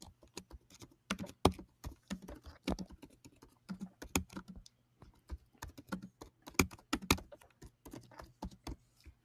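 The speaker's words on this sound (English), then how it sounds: "Who the hell is hammering the keyboard?" Someone hammers hard on a computer keyboard during a baseball postgame broadcast, with rapid, irregular bursts of loud clacking keystrokes close to the microphone, broken by short pauses and heard with no voices.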